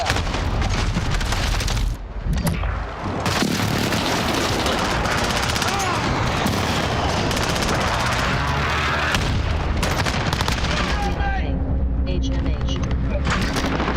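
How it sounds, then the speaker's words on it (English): Heavy video-game combat with a precision airstrike: dense bursts of gunfire and booming explosions roll continuously, loud and close, with game voice callouts and a player speaking over the barrage. "Pilot precision airstrike inbound."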